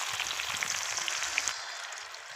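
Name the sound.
onion and garlic frying in hot oil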